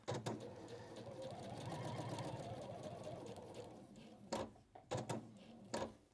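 A sewing machine stitches fabric in a sewing studio, running in a continuous close mechanical whir for about four seconds, then stopping into a few clunks and handling knocks.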